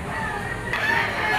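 Stag roosters crowing at a poultry auction market, a clear crow rising over busy background chatter and ambient market noise.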